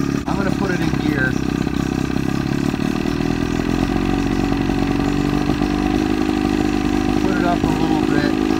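A boat's outboard motor runs loud and steady at close range, shifted into gear with a droning, even hum. Someone talks over the engine.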